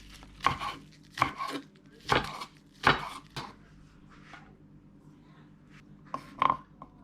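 Green onion being chopped with a knife on a cutting board, a few crisp, evenly spaced knife strikes followed by a pause and two or three more close chops; no talking.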